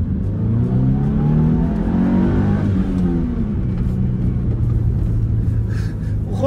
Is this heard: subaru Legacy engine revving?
yes